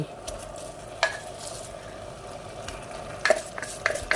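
Thai green curry paste and washed mustard greens being stirred in a boiling pot on a fire, with soft scraping and clinks of the utensil against the pot over a steady bubbling sizzle.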